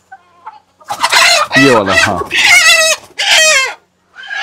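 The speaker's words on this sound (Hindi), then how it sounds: "ये तो मुर्गी है, ये ब्लैक वाला" A black hen clucks and squawks in several loud bursts close by, with a man's brief words at the start and end.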